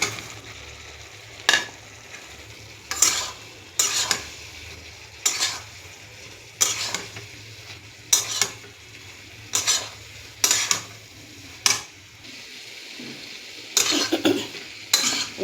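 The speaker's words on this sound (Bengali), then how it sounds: "ভালো করে নেড়ে চেড়ে নিলাম।" Soaked soya chunks are stirred in a hot frying pan: a low sizzle runs beneath about a dozen sharp, regular spatula scrapes and clacks against the metal, each a second or so apart.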